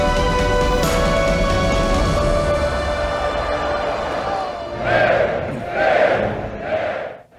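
Roaring arena crowd from the film Gladiator, spectators shouting as the Roman general Maximus returns as a gladiator: dense, loud massed voices that swell into several rhythmic chanted bursts toward the end.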